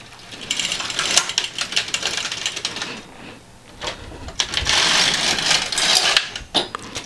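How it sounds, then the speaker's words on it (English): A domestic knitting machine carriage is pushed back across the needle bed in plain knitting, giving a loud, continuous mechanical clatter and whir in two long sweeps with a brief pause between them. "And then I will knit back. That should complete the whole row."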